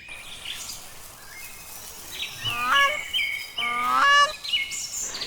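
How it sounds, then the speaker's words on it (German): A grey crowned crane gives honking calls, a short one, then two longer, loud, nasal bursts that rise and fall, close and clear over faint background noise. "Es ist der Kronkranich, auch bekannt als afrikanischer Graukranich."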